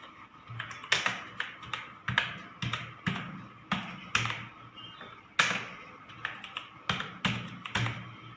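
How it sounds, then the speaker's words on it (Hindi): Key presses on a computer keyboard while typing a name in capital letters, heard as evenly spaced, distinct taps, close and clear with brief gaps between strokes. "अब हम यहाँ पे नोटपैड प्रोग्राम ओपन करेंगे और इसका यूज़ बताते हैं कैप्स लॉक का। जैसे हम यहाँ पे लिख रहे हैं अपने ही सेंटर का नाम।"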